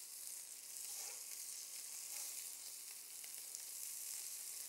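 Big sea scallops searing seasoning side down in a hot pan give off a soft, steady, even sizzle that holds for the whole stretch, with no talking.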